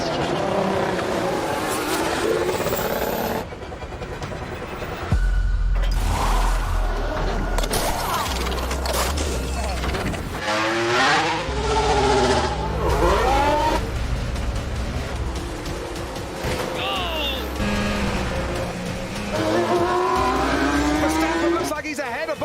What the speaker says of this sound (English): the drivers dive into the pits for a change of tyres